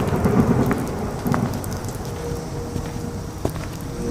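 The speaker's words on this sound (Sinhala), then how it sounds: "අද වැස්ස නම් හරීම මූසලයි නෝනේ අකුණු ගහනවා තදට" A heavy thunderstorm in a village, with steady loud rain drumming on surfaces and rolling thunder rumbling beneath, a sharper crack near the end, and no voices.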